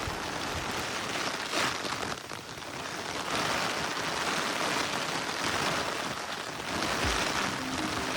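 Monsoon rain falls steadily in the Satpura forest, a dense, even hiss of drops close by. It swells and eases slightly a few times but never stops. No voices are heard.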